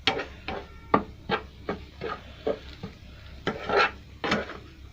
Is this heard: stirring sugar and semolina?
yes